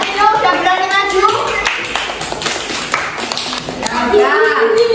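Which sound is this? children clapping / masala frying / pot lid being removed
children clapping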